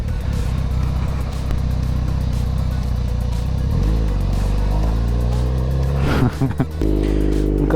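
A motorcycle setting off, its engine a loud, close low drone that rises in pitch as it pulls away and shifts, with a couple of brief rattling bumps near the end.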